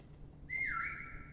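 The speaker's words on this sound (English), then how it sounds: "He heard the whistle and then just came right for me." A single whistle in Call of Duty Cold War multiplayer rises sharply and holds as a clear tone for under a second above a faint, quiet game background.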